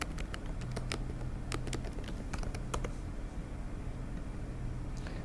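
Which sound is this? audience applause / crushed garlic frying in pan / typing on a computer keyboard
typing on a computer keyboard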